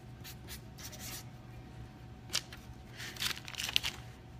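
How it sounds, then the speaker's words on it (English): Pen writing on a Post-it note in a quiet room, a soft steady scratching of strokes with a few sharper taps and ticks near the end, close and faint, with no talking. "I'm just gonna write this down so I don't forget. My handy dandy Post-it."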